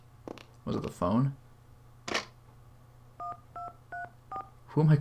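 Telephone keypad dialing in the PS1 video game Clock Tower: a run of short, evenly spaced two-tone beeps following a few clicks and handling sounds, with a voice briefly heard.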